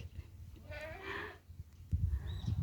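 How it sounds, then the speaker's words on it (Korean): A goat gives a single wavering bleat from some distance, over a low background rumble. "앞집에서 염소 오는 소리,"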